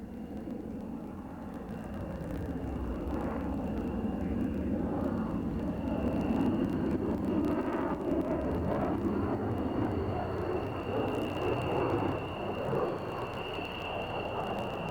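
A military fighter jet capable of over Mach 2.2 passes at an airshow, a loud, sustained roaring engine rumble that swells and holds across the whole stretch, with no voices.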